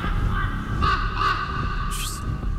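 Crows cawing in the video game Rise of Insanity, a few harsh calls at moderate distance layered over a steady game ambience, with a brighter cry near the end.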